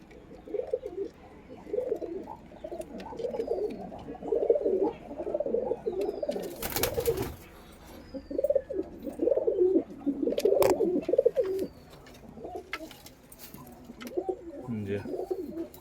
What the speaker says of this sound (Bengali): এই যে মাদি পায়রাটা, টেডি পায়রা,